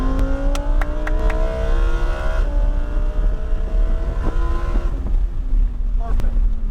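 A Lamborghini Huracan EVO accelerates on a racetrack, its engine note climbing steadily through the gears with sharp shift breaks, loud and close from inside the car over wind noise.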